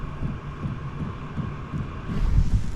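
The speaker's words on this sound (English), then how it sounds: "Right, I can hear a diesel pump knocking." Fuel pump of a Hcalory Toolbox Max diesel heater knocking in a steady, quiet, regular low thump over a constant hum, like soft muted drumming.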